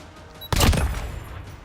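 A single loud SP-R 208 bolt-action rifle shot in a game, a sharp blast followed by a short decaying echo, heard close.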